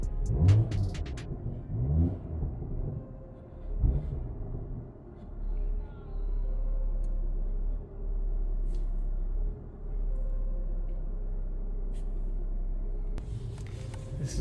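Interior of a BMW M340i in sport mode, its engine revved in a few short bursts at first before settling into a steady low drone that holds throughout, with faint talk early on.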